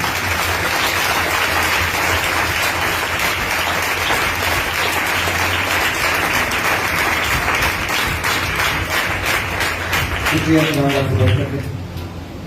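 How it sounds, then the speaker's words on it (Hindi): Loud, sustained applause from a congregation at a church service, with many hands clapping steadily for over ten seconds before tapering off at the end. "जोरदार तालियां हैं।"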